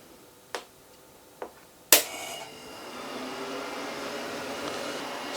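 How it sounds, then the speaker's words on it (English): A Fohere countertop ice maker is switched on: a few sharp clicks and a louder switch snap, then a steady low mechanical hum and whir of the machine running, close by with no talking. "Fridge noises are happening."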